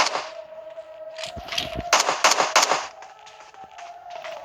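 A grenade goes off in a shooting video game, with a burst of loud cracking blasts in quick succession in the middle, set against a steady tonal hum.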